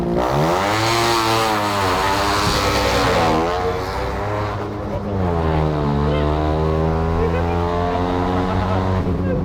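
Turbocharged single-rotor rotary engine in a Mazda Miata pulls hard on a dyno, a loud, continuous high-pitched wail that climbs steadily, dips briefly around the middle, then rises again without a break.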